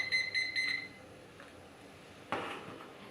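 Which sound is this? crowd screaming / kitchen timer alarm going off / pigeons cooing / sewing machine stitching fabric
kitchen timer alarm going off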